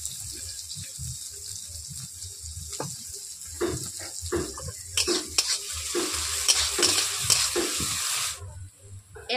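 Onions with a pinch of salt frying and being stirred in a pan for a Bengali rui fish jhal, a steady close sizzle broken by scraping stir strokes, growing brighter toward the end.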